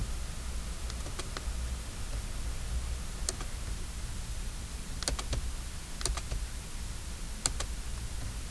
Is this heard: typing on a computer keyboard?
yes